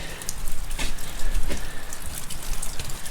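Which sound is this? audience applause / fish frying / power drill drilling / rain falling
rain falling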